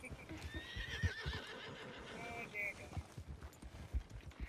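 A horse neighs and whinnies in Red Dead Redemption 2, the call rising and falling over about two seconds, with hooves clopping and thudding around it at moderate distance.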